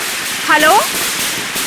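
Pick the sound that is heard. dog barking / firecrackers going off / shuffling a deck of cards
firecrackers going off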